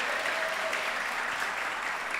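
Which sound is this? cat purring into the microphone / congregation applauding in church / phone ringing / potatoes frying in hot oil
congregation applauding in church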